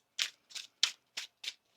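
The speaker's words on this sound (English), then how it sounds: "One more shuffle, please, and thank you." Tarot cards are shuffled in five short, crisp riffling bursts at an even pace, close and quiet, with no talking.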